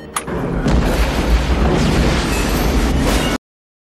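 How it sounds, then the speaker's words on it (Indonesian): A loud, dense explosion roars close by with a rumbling boom that holds for about three seconds, then cuts off abruptly. "Carl hancur dalam ledakan"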